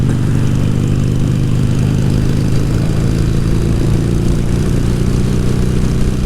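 883 motorcycle engine running on the road, a loud, steady, low-pitched rumble mixed with wind noise, continuous throughout.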